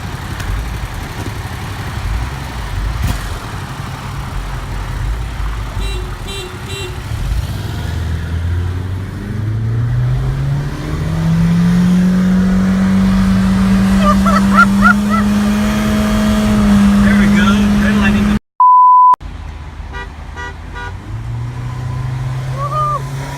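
A Yamaha FZ07 motorcycle races a Honda Civic and a Nissan Altima. Engine drone builds into a rising, strained acceleration whine, cuts out abruptly for a moment, then a lower engine hum resumes.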